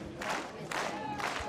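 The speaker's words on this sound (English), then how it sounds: "You hear the crowd getting into it." A crowd cheers and roars in waves during a recurve archery team gold medal final at the Berlin World Cup, the swells of voices carrying steadily across the venue.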